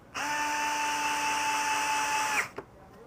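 A Bosch cordless power drill set to low torque whirs steadily at close range for over two seconds, then stops with a brief click and a short tail.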